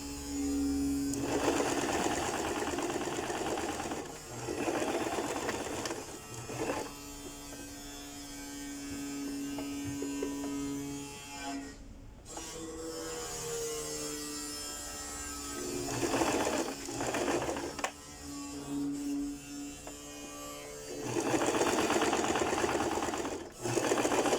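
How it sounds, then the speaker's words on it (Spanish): A sewing machine runs in long bursts stitching the shoulder seams of a blouse at a one-centimetre seam allowance, a steady close whirring motor hum that stops and restarts several times, with no voices. "vamos a cerrar entonces los hombros a 1 centímetro de margen de costura"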